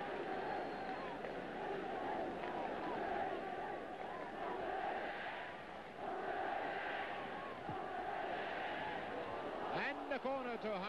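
A large football stadium crowd at a 1966 World Cup match between Hungary and Brazil roars and chants steadily, a thick distant wash of voices that swells and dips, with commentary talk on top.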